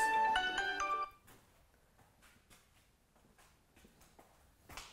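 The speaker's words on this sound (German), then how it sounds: "Und jetzt klingelt mein Telefon." A melodic phone ringtone plays loudly for about a second, then cuts off, leaving quiet room noise and a few soft knocks.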